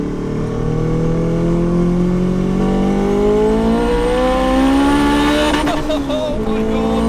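A 500 bhp B16 turbo Honda Civic EF hatch accelerates hard from inside, its engine note rising steadily through the revs in a loud, continuous roar, with a brief flutter as the throttle changes near the end.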